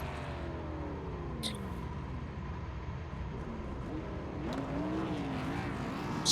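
A field of 1987 NASCAR Legends race cars in an iRacing heat race at Talladega drones steadily at moderate level, with engine tones rising as cars pass and a sharper sweep of a closer car near the end.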